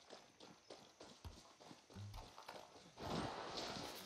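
Horse hooves clip-clop in Far Cry 6, a steady walking rhythm of moderate, close hoofbeats that grows into a denser rush of noise near the end.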